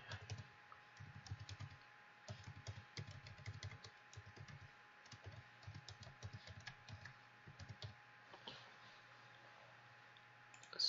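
Someone types on a computer keyboard in quiet bursts of rapid key clicks separated by short pauses, soft and close, with no voices.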